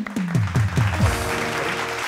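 Loud, steady applause fills a televised singing contest stage, a dense wash of clapping running throughout alongside a descending musical sting.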